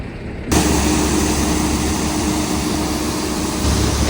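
A harvest truck's heavy diesel engine rumbles up loud and steady as the truck reverses, a constant low drone that holds throughout.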